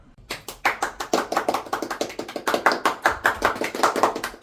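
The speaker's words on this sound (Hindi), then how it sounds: "ए ताली क्या बजा रहे यहाँ पे?" A brisk run of hand claps, loud and close, in a quick, slightly uneven rhythm that keeps going for several seconds with no talk over it.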